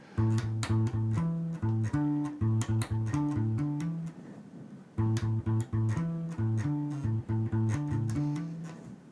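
A slow, deep bass guitar riff, slowed down, plucked repeating notes played alone, pausing briefly before the phrase starts again.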